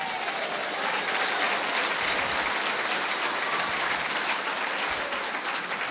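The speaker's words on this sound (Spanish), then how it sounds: "Fuerte aplausos a Cristo Jesús." A church congregation claps in sustained, dense applause, loud and even throughout, with no pauses and only faint crowd murmur beneath.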